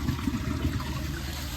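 A Glacier Bay dual flush toilet, a 2019 model, flushing during a performance test: steady rushing water with a broad, even wash and no voices.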